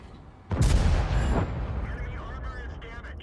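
A single loud gunshot from the Leichter Kpz. 70 (K) in a tank video game, a sharp blast followed by a decaying rumble and ringing tail.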